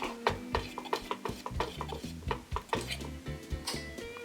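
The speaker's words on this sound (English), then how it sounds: "Stir that in." Creole seasoning and butter stirred in a pot, a spoon knocking and scraping against the metal in quick irregular strokes, close and moderately loud.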